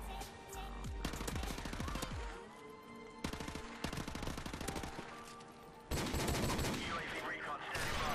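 Rapid gunfire from Modern Warfare Remastered, a video game, comes in loud, dense bursts of repeated shots separated by brief lulls, with a final heavy volley near the end.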